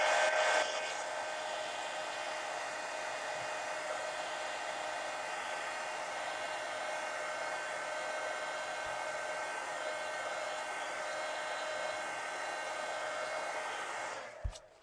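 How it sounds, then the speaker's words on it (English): A heat gun blows hot air over a collage page of a steampunk mini book, a steady close whooshing whine that runs unbroken for about fourteen seconds before cutting off with a small click. "And I hit that with the heat gun again"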